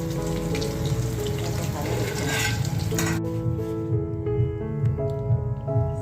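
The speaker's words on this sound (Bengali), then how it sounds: "এদিকে মাছ ভাজা হচ্ছে, এটা আরও ভাজতে আছে," Rohu fish frying in a pan on a home kitchen stove, a steady broadband sizzle that continues throughout, with a brief dip where a second, more tonal hum from a kitchen chimney fan stands out.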